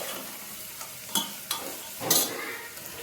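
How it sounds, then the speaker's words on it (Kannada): Potato and curry leaves fry in a pan for veg pulao, a soft, steady sizzle broken by a few brief scraping bursts as the mixture is stirred. There is no talking. "ಇದನ್ನು ಚೆನ್ನಾಗಿ ಫ್ರೈ ಮಾಡ್ಕೋಬೇಕು."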